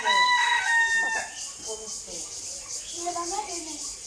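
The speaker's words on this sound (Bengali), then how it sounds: "এই যে মুরগিকে মাঝে মধ্যে একটু গোসল করালে ভালো হয়" A chicken being bathed calls out with a drawn-out, crowing-like cry, then gives softer, scattered clucks nearby.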